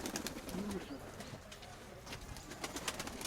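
Pigeons coo softly in a recurring low murmur around a long-kept loft, the calls fairly close and steady over a hissy background, with faint rustling and no clear talk.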